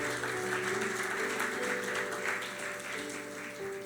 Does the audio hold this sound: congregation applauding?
yes